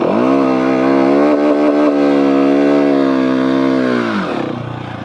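A Husqvarna 701 or KTM 690 single-cylinder motorcycle holds a loud, steady high-rev drone for about four seconds during a burnout, then the engine note drops away.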